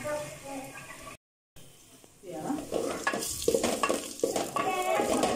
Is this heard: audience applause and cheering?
no